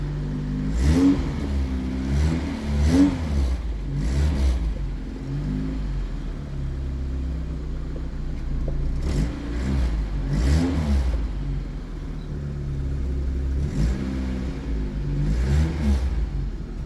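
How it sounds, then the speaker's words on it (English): A 1989 Opel Corsa sedan engine with a leaking exhaust idles with a low rumble, then revs up sharply several times in short bursts, each rise falling back to idle. "I'll still give you some revs because I know you want to hear that"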